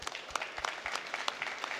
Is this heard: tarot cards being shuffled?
no